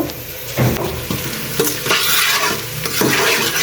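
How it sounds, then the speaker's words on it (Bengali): Onions frying in a pan beside a fish curry, sizzling loudly and steadily while a spatula stirs and scrapes with repeated clattering knocks. "তো পেঁয়াজগুলো ভালোভাবে ভেজে নিই"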